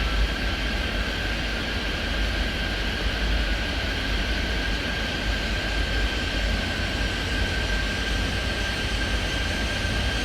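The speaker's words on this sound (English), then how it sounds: "Steel flight departure there. Cleared for takeoff. Runway 25 right." A jet airliner rolls for takeoff in the air traffic control game Airport Madness 3D, a loud, steady engine roar with a high whine that holds constant and close for the whole stretch, with no voices.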